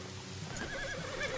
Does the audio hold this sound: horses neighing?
yes